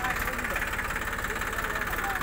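A tractor stuck in deep mud idles with a steady, rumbling, slightly knocking drone close by, while someone talks over the engine noise.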